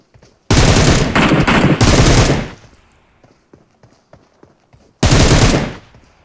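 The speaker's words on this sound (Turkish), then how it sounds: "Şimdi bak ben onu nasıl vuracağım?" Bursts of automatic gunfire from shooting an enemy in a video game, two long loud rapid-fire volleys and a later third burst, with faint footsteps and clicks in the quieter gap between.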